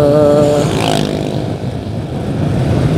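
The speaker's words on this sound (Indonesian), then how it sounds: "Ini saya menjalankan motor sangat pelan-pelan sekali teman-teman" A motorcycle moves very slowly along a road with a loud, low engine drone close by, easing off slightly and then holding a steady idle-like rumble.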